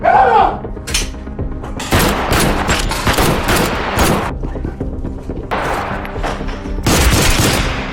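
A shootout erupts during an armed raid on a house in a TV drama series: loud, rapid bursts of gunfire with heavy shots overlapping, and voices heard between the volleys.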